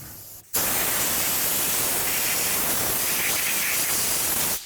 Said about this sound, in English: let's rinse it with some brake parts cleaner.